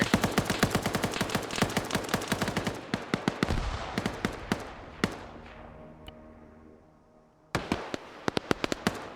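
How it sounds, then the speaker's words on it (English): In a military video game set during an invasion of Ukraine, a launcher's glitching sound loops as a rapid stutter of sharp bangs that thins out, falls silent briefly, then bursts back in a fast volley. "So that's an audio glitch with someone's launcher."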